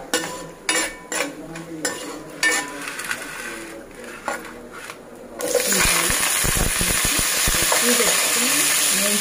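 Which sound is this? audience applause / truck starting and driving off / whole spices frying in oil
whole spices frying in oil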